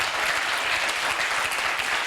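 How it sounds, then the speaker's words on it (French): Audience applause at a theatre presentation of the play Vampires, a dense, loud and steady patter of many hands clapping, sustained without a break. "Applaudissez, qu'est-ce que vous faites, vous?"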